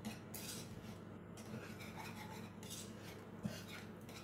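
Butter being stirred into hot cream off the heat, a soft continuous scraping and rubbing of a utensil against the pot, close but quiet, with a faint low hum underneath and no talking.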